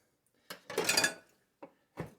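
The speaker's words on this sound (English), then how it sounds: "Just give them one pass with the knife" Artichoke hearts for risotto landing on a cutting board and getting a knife pass, a close cluster of clattering knocks and scrapes followed by two short isolated taps.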